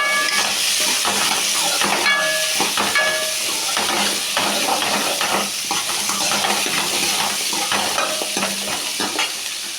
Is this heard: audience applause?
no